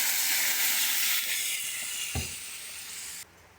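Water poured into hot fried spice paste for a Bengali fish curry bursts into a loud, close hissing sizzle that steadily fades as it settles toward a simmer, ending abruptly quieter.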